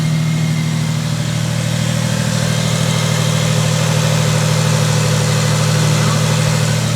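A supercharged 3MZ-FE V6 in a Toyota Celica GT idles while warming up, a steady low rumble with an even mechanical hum that stays constant throughout.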